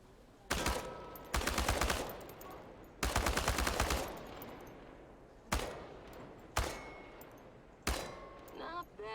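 AK-47 rifle fire at cans in the game Chernobylite: long automatic bursts and several single sharp shots, loud and close with ringing tails between them, and a short voice at the end.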